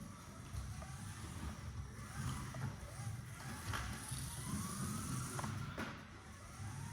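A Mini-Z RC car runs laps around a small track, giving a steady, close whirring drive noise over a low rumble, with occasional brief knocks as it slides into corners and hits the walls.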